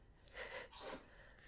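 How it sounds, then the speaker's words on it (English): A house cat sneezes twice in quick succession, soft and close by, a short sharp burst followed by a breathy snort, with no speech over it. "Our cat is sneezing."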